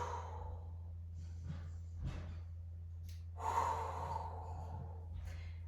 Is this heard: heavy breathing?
yes